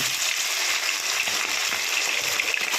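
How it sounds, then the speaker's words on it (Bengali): Chicken pieces fry in hot oil spiced with cumin seeds, giving a steady, dense sizzle and crackle that holds evenly throughout without any talking. "আমি চিকেনগুলোকে প্রথমে ভেজে নেব"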